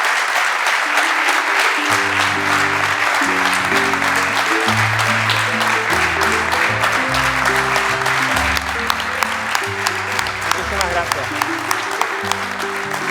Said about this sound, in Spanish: Vamos a darle otro fuerte aplauso